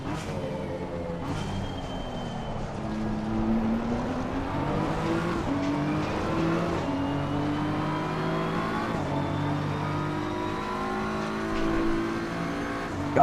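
A BMW race car in Assetto Corsa Competizione on the Laguna Seca track, its engine revving loudly and continuously as it slides sideways, with shifting harmonic engine tones and intermittent tire squeal throughout.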